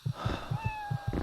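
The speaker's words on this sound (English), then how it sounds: "I hear Ghost Cat, but I don't see Ghost Cat." Ghost cat meowing in the game Echo Night: Beyond, a close, wavering meow over a soft repeating thudding pulse, with no speech.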